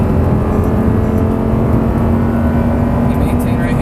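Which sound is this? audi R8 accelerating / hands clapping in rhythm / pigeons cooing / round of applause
audi R8 accelerating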